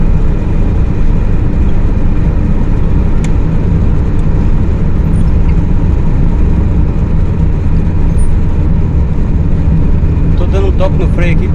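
Steady engine and road roar from a 2.0-litre Astra car being driven, a continuous dense rumble throughout with a faint voice near the end.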